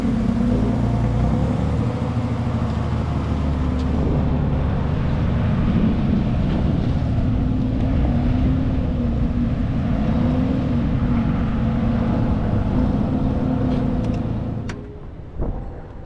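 A Porsche 992 GT3 with a full JCR exhaust driving, its engine droning loudly and steadily with a rising and falling tone and wind noise over the microphone, before cutting away near the end.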